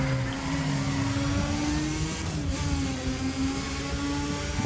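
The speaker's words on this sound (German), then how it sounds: "Der Wankel schreit wieder." A Wankel rotary engine revs hard in the Need for Speed ProStreet racing game, a steady loud droning engine note holding throughout with a brief dip midway, with no talk over it.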